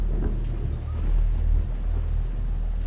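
Thunderstorm in the video game Don't Knock Twice, a deep low rumble of thunder swelling and fading under steady rain-like hiss, continuous and fairly loud.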